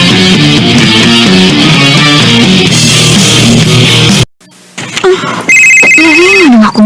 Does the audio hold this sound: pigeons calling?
no